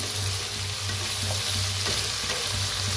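Mixed vegetables for sambar, including tomato, beans and carrot, fry with a constant close sizzle while being stirred in a pan, with a low rhythmic hum running beneath the hiss.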